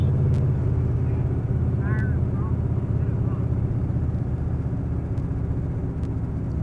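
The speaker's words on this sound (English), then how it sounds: "I was afraid of that with the exhaust and noise inside the car" A cold car engine warms up, heard from inside the cabin as a loud, steady low rumble of engine and exhaust filling the whole stretch, with brief faint chirps over it.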